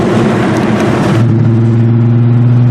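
A Volkswagen TDI turbo-diesel car accelerates at full throttle in fourth gear, a loud, close, steady engine drone that settles into a lower, even hum partway through, with no talking.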